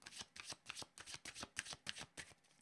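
Tarot cards being shuffled close up, a quiet rapid run of crisp riffling flicks in an even rhythm, with no talking.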